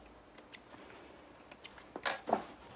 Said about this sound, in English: trim those threads.